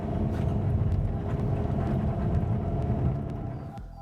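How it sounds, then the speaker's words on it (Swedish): Low, steady rumble of a Lamborghini Aventador LP700-4 with a 700-horsepower V12, heard at a moderate distance and fading slightly at the end. "So we have this Transformers kind of looking Lamborghini Aventador LP700-4."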